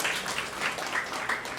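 An audience at a women's gathering claps hands in a dense, steady patter of applause, moderately loud and continuous from start to end, with no talk.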